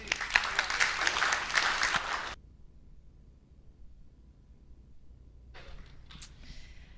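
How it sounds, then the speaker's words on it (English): An audience at the Mindful Money Conference 2025 applauds loudly for about two seconds, then the clapping stops abruptly, leaving quiet room tone before faint scattered sounds return near the end. "round of applause for the climate tables, please."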